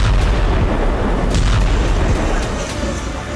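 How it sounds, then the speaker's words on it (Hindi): Explosions from drone and missile attacks in Luhansk rumble as a dense, loud, continuous booming mass, with several sharper blasts popping through near the middle. "शहरों में कई धमाके देखे गए"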